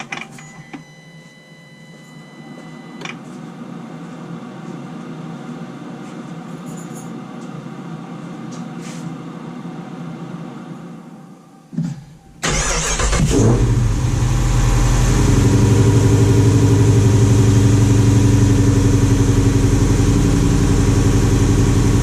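A car with a 392 engine and freshly fixed intake manifold cranks and fires up, then settles into a loud, steady idle that fills the rest of the clip after a quieter mechanical stretch.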